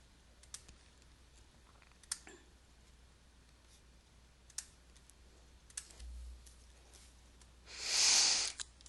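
Sparse, faint mouse clicks at a computer while selecting an Excel spreadsheet, isolated sharp taps spaced a second or two apart, ending with a soft breathy rush.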